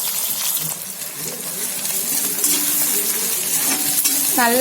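Onions frying in hot oil with fennel seeds and curry leaves for chicken chukka, a steady loud sizzle throughout, with occasional scraping and stirring and a sharper metallic clink near the end.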